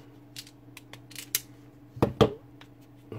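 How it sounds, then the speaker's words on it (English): Wire strippers cut through a car wiring loom on a Mk3 Ford Mondeo ST220, giving a couple of quick, close snips in a quiet room after a few small handling clicks. "I'm going to cut that with my wire strippers"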